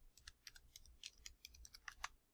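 Quick bursts of keystrokes on a computer keyboard as a chat message is typed, light rapid clicks in an uneven rhythm, quiet and close, no talking.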